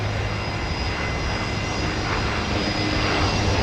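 A Link Airways Saab turboprop landing at Brisbane Airport, its engine roar loud and steady throughout the short stretch, heard from close by with no voices over it.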